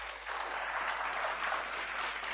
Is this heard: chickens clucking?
no